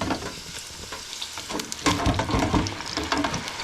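Homemade French fries drop into grease heated to 375 for a second fry, breaking into a loud, close, rushing sizzle with bubbling crackle that swells midway and stays strong.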